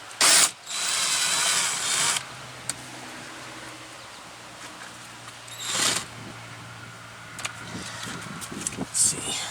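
A power screw gun backing a 7mm screw out of a car door handle during a power window repair. Close, whirring bursts of the driver run briefly, then longer, then again later, between quiet handling noises.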